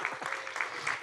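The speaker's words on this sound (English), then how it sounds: "we can give a round of applause for that" Banquet audience at a college senior awards event clapping briefly, a steady wash of applause under a faint voice.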